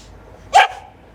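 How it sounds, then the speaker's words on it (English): A cockapoo gives a single sharp, close bark, brief and loud against a quiet room. "Now he can't get his own way. So he barks."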